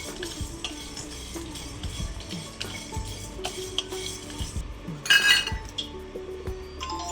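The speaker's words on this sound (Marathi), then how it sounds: "हे धने टाकले. हे धने भाजून घेतले." Coriander seeds tipped into a pan and dry-roasted for a sweet Maharashtrian spice blend, with steady stirring scrapes and small clinks of a spoon against the pan, close and continuous, plus a brief louder rattle partway through.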